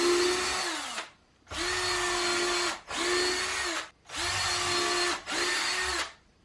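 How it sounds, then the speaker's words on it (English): A power drill pre-drilling holes into the sides of wooden shop shelf supports, five bursts with the motor whining up, briefly bogging as the bit bites, then cutting off, close and loud with short pauses between. "I'm just going to come along here and put a pre-drill hole along the sides"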